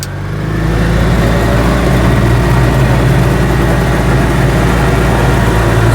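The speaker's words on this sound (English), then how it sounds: "So it sounds like a moped because it's a CVT." An Invacar with a CVT, two pulleys and a rubber belt, drones loudly at fixed revs like a moped. The steady engine hum holds close and unbroken throughout.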